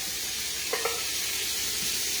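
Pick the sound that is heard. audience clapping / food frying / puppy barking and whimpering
food frying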